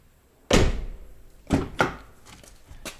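A Toyota Prius 30 car door is shut with one loud, solid thunk, and two lighter knocks follow about a second later. The sounds are close-up and isolated, with quiet between them and no talk.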